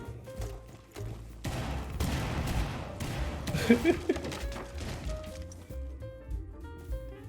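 Gunfire in Rainbow Six Siege, with rounds punching through a wall: a steady mid-level barrage of shots and thuds over several seconds, rising to a sharper cluster of impacts before tapering off into quieter game sounds.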